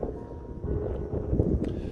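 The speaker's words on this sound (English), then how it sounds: "If it's windy, sorry about the wind." Wind buffets the microphone outdoors in a steady low rumble that swells and eases, with no other clear sounds.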